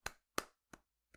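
One person's half-hearted applause, imitated by a voice or hands: four sparse, dry claps slowing and fading, the last one faint, alone with nothing else heard.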